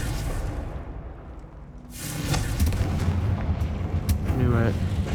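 A Confringo fire spell in Hogwarts Legacy is cast, and a deep, loud booming blast swells up after a quiet stretch, with rumbling game effects continuing to the end.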